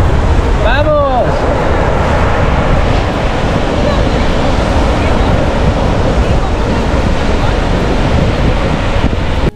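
Ocean surf breaks continuously on the beach at Playa Las Gatas in Zihuatanejo, a loud steady wash mixed with wind noise, with a brief chirping sound near the start.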